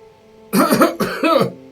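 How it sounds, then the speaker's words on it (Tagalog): Two harsh, raspy coughs in quick succession, close and fairly loud, with no talking around them. "Ubo-ubo pala ito"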